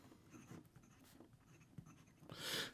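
A Gravitas Bifrost fountain pen with a broad stainless steel nib and Pilot Iroshizuku Tsukiyo ink scratches faintly across paper in short strokes, ending in a louder, brisker scrawl.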